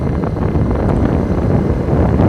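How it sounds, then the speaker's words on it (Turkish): Steady roaring headwind buffets the microphone on a 50cc cub-style motorcycle cruising at about 75-80 km/h, a dense, loud, unbroken rush with no pauses. "şöyle ağaçlardan da görebileceğiniz üzere karşıdan bir rüzgar muhabbetimiz mevcut"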